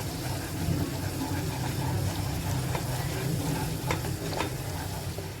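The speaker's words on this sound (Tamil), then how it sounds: "இது நல்லா மேல எண்ணெய் வர்ற வரைக்கும் நம்ம வந்து சுண்ட வைக்கணும்" Pepper gravy (milagu kulambu) bubbling and sizzling in a pan as it thickens, a steady close hiss with a low rumble and a few faint pops, no talking.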